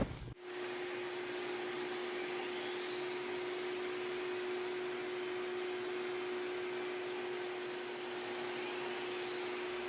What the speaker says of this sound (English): Okay, now this is with the shop vac on,